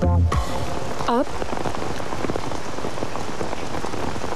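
Heavy rain falls and patters densely on surfaces, a loud, steady hiss of drops that continues unbroken after a brief thump and short chirp at the start.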